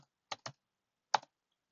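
A few keystrokes typed on a computer keyboard, entering commands into a hacking simulator game: two quick taps close together, a pause, then another tap, near and alone in a quiet room.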